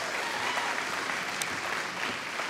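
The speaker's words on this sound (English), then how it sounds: "That's a huge round of applause." A graduation ceremony audience gives a big, sustained round of applause, dense even clapping filling the whole stretch at steady loudness.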